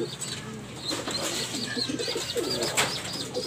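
Racing pigeons coo repeatedly in a loft, soft throaty calls overlapping at close range with faint chirps and occasional wing flutters, no talking.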